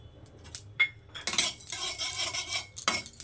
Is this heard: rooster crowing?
no